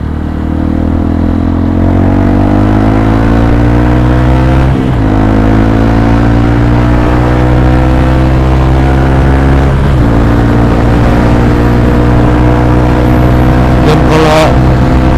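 A Honda CRF 150 motorcycle engine drones loud and steady while riding, its pitch slowly rising and falling through gear changes, with wind rush across the top and a brief rattle near the end.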